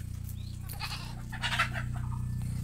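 A goat bleats in a livestock pen, with a couple of bleats standing out over a steady low hum of background noise and no speech.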